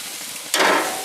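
A veal porterhouse steak hits the barbecue grill as it is flipped, bursting into a loud, close sizzle after a quiet moment, then hissing steadily.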